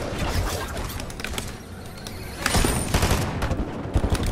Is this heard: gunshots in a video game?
yes